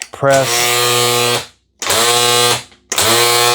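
A WORX 20V cordless string trimmer head whirs up to speed three times in quick succession, each burst a loud, steady motor whine lasting about a second before cutting off.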